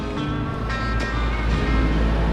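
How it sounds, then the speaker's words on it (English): A Lennox air conditioner runs with its blower and condenser fan motors going, a loud, steady low hum and rushing whoosh with faint tonal whine that holds constant throughout, close by and without talk. "Blower's running. Condenser fan motors are running."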